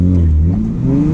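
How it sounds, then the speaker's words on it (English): A car accelerates hard after the clutch is dumped on a downhill, the engine note close and loud, a brief rising roar without any voices. "Dump the clutch, gas it all the way and dump it."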